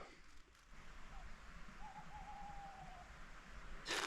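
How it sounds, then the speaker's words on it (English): Owls hoot faintly in dark, wet woodland at night, a soft wavering call around the middle, under a steady hiss of dripping water from the trees. "the local owls are out"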